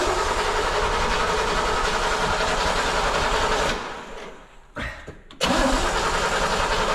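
A Corvette engine in a garage runs loud and steady, drops away into a brief sputter and catch, then bursts back to a strong, full idle, close and dominant throughout.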